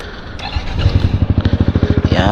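Yamaha XMAX scooter fitted with a GP1 titanium exhaust idling close by, a deep, steady pulsing thump that firms up into an even throb, with someone talking over it briefly.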